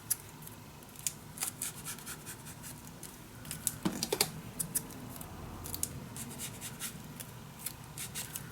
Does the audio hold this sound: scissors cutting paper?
yes